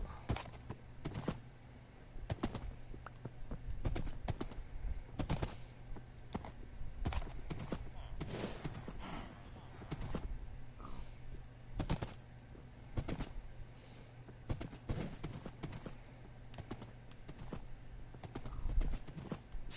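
Horse hooves clip-clopping in the Minecraft video game, a steady run of sharp hoof strikes repeating through the whole stretch at moderate volume without talking.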